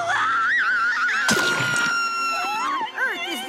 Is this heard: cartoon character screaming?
yes